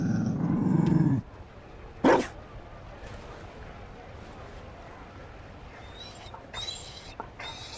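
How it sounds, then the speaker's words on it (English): A Mabari war dog in the video game Dragon Age: Inquisition growls in a low, close, rough rumble lasting about a second, followed by a short sharp noise and faint high sounds later. "You found a dog."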